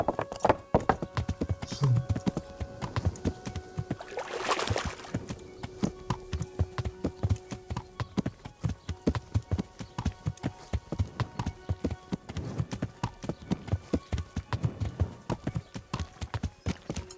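Steady clip-clop of horse hooves ridden at a walking pace in Kingdom Come: Deliverance, regular close beats running throughout, with a brief whinny-like burst early on.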